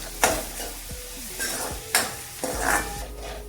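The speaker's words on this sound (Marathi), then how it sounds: "त्यामध्ये कांदा फ्राय करायचा आहे" Onion frying in oil in a kadhai, a soft continuous sizzle broken by a few sharp clanks of a spoon against the pan, close by.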